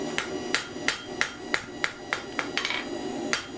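A power hammer beats a stainless steel spoon blank in quick repeated metallic strikes, roughly a dozen close, ringing blows at an uneven rhythm.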